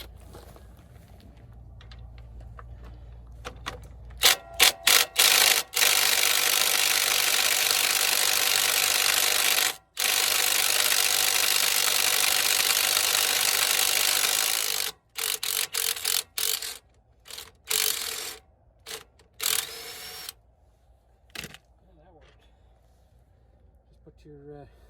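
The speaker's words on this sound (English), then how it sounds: "I'm just going to put my Ryobi impact on there" Ryobi 1/2-inch drive impact wrench hammers loose a shock absorber bolt on a Ford F350: long loud rattling bursts of about five seconds each, then shorter choppy bursts as the bolt spins out, with talk at the start and a few clicks.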